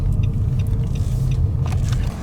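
A Nissan Rogue rental car gives off a steady, loud low rumble that carries evenly through the whole stretch with no talk over it.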